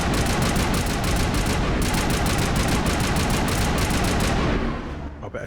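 Gun turrets in the video game Mass Effect fire a loud, continuous rapid burst of gunfire that keeps hammering for several seconds before abruptly cutting off into fading echo.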